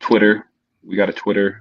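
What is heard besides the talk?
No everyday noise stands out behind the speech.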